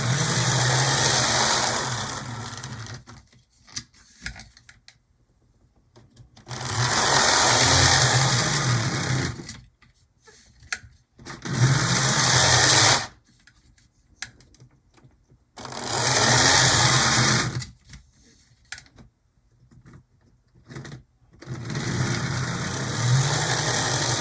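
A noisy mid-1950s Revell Santa Fe HO scale model diesel locomotive runs in repeated bursts of several seconds each, a harsh buzzing, whining motor roar broken by short near-silent pauses, loud and close with no talking.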